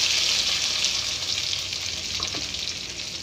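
Tomato paste added to a hot tempering of pepper and cumin for rasam, sizzling loudly and steadily in the pan with a bright hiss that eases slightly toward the end.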